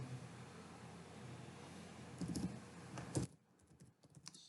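Computer keyboard typing while code is entered, with fast clicking keystrokes over faint background hiss, a short burst of louder taps, then a few sparse presses after a quiet gap.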